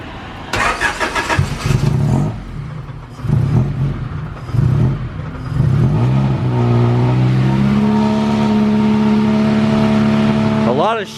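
A Honda Integra DA9 with a swapped F20B engine cranks and starts through a newly fitted exhaust, then revs loudly in several blips before settling into a steady, close idle; people talk over it at the start.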